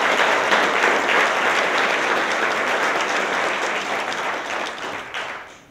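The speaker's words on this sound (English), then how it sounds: "Let's give a huge round of applause to Stephanie Sanders Young." Audience at a mayor's community service awards ceremony gives a full, steady round of clapping that gradually fades over about five seconds.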